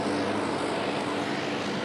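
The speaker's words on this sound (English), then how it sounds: "The plane is going through a washdown now" A plane sits through a ceremonial water-cannon washdown at an airport terminal, heard as a continuous loud, dense hiss of spraying water blended with a steady aircraft engine drone.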